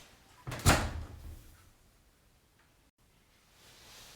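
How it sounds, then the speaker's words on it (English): Front-loading washing machine door swung open once, a close clunk and release fading into quiet over about a second, with no talk. "Open the front door."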